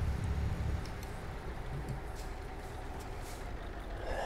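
A heavy truck engine in Euro Truck Simulator 2 rumbles low and steady while driving, fairly faint, with a few soft hissing or clicking cab sounds over it.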